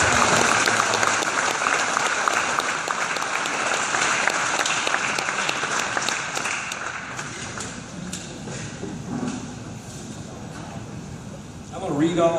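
An audience applauds at a high school football banquet for Sulphur High School, sustained clapping that fades slightly, with a voice faintly underneath and talk returning near the end.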